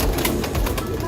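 Pigeons in a large loft in Mirpur give low, throaty coos, a close, continuous murmur over background noise for about a second.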